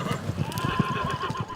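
Horses brought in as a herd by cowboys on a frosty morning, with a whinny rising over a steady patter of clopping hooves, close and busy, and faint voices underneath.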